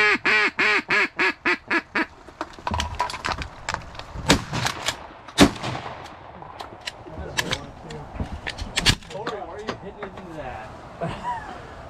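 Loud, rapid duck quacks from a hen open the clip during a duck hunt in an Idaho blind, followed by scattered sharp gunshot bangs and clatter while people talk and laugh nearby.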